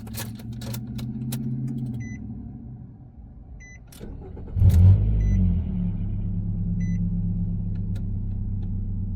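A 2006–2015 Nissan Xterra started with a newly programmed key: a few soft chimes, then the engine cranks and catches midway and settles into a steady, low idle rumble.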